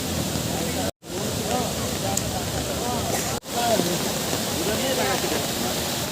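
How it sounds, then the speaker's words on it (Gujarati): Steady broadband rush of heavy monsoon rain and floodwater overflowing a bridge in Dang, Gujarat fills the scene, briefly cutting out twice, with faint voices mixed in beneath. "આજે વરસાદનું પ્રમાણ ખૂબ વધારે છે"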